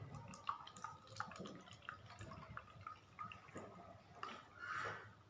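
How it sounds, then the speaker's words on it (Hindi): Water is poured into a bottle to set up a siphon experiment, giving quiet trickling and scattered drips with a brighter gush near the end. Everything stays faint. "चलिए अब इसमें हम पानी भरते हैं और देखते हैं कि क्या होता है।"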